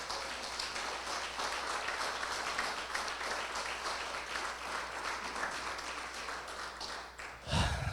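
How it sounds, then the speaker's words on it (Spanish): A church congregation applauds during a Spanish-language service, sustained, moderately distant clapping that continues evenly for several seconds before a brief low thump near the end. "¿por qué no damos un aplauso al gran yo soy?"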